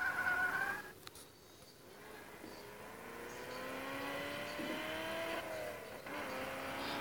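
A Shelby car in a 4x4 off-road video game drives with a steady engine drone that rises and falls in pitch as it accelerates and shifts, with faint tire noise throughout.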